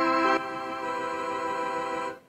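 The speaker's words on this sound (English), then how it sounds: "Our major 7 chord sounded like this." A single major seventh chord rings out with sustained, even tones for about two seconds before fading away. A brief brighter attack opens it, and no voices are heard.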